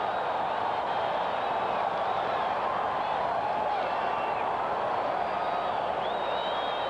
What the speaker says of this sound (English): listen to this crowd now at Orchard Park come alive after the blocked field goal attempt